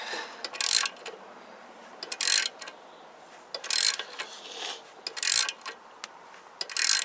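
A ratchet works loose a stud on the exhaust of a Huoniao HN125 motorcycle, giving four or five bursts of rapid clicking, close and crisp, separated by short pauses.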